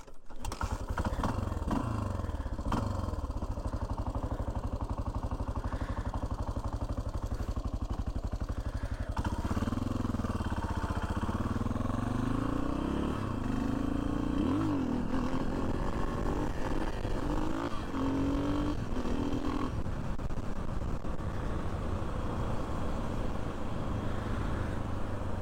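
A 1992 Yamaha XT 600 single-cylinder motorcycle with a Leovince X3 exhaust and baffle fitted, heard from the helmet as it starts off and rides on the road, a steady close engine drone rising and falling through gear changes amid wind noise.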